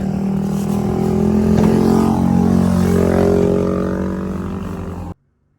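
A motorcycle engine roars steadily close by, holding a loud revving drone for several seconds before cutting off abruptly.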